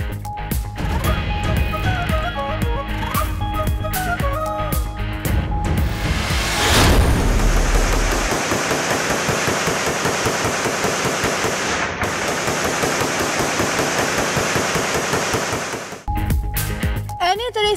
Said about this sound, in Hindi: हवाई फायरिंग से दफा 144 को छलनी कर दिया गया